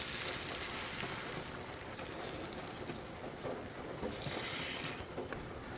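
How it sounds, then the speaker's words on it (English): Eggs being scrambled in a pan on a wood stove, giving a steady, soft sizzle with faint scraping and clicking that runs throughout, fairly quiet, with no talking. "Now let's get these eggs scrambled up."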